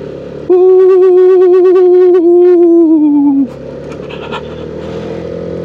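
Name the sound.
Yamaha Xmax 250 scooter accelerating uphill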